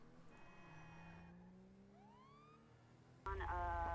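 A police cruiser siren in GTA V with the LSPDFR mod rises and falls in a wail over a low engine hum, then a louder, harsher siren tone cuts in abruptly near the end.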